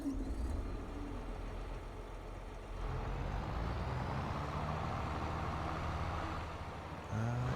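A big John Deere tractor in Farming Simulator 22 drones steadily at a low pitch, its engine note rising partway through and holding a constant rumble with a faint beep near the end.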